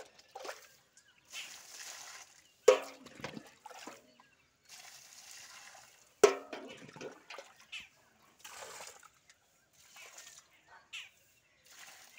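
Water is poured onto potted garden plants, including a dragon fruit plant, at a home in the morning, making intermittent close splashes and trickles in short bursts separated by quiet gaps.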